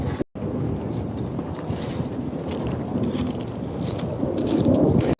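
Steady outdoor wind buffets the microphone in a broad, continuous rumble that swells toward the end, with no talk.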